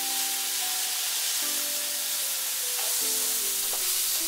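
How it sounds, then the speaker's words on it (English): Delicate mola fish frying in tamarind oil with onion seeds and ginger paste, a constant loud hissing sizzle with occasional light stirring sounds and faint tonal hums behind it. "Fry it for few minutes and this fish is very delicate, so stir it slowly."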